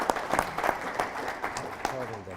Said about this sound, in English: So if we have a round of applause for those people.